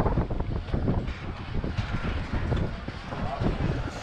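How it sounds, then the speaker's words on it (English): Strong wind buffets the microphone on the open deck of a Sunseeker Manhattan 68 motor yacht, a loud continuous rumbling roar that rises and falls in gusts, with no voice over it. "The wind's picked up, so hopefully that's not too bad with the microphone."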